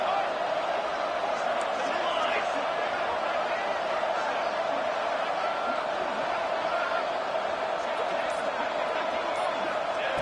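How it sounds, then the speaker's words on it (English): Stadium crowd noise in the college football video game NCAA 25 during a tense two-point conversion try, a steady, dense roar that holds throughout. "they'll have to conquer this crowd noise"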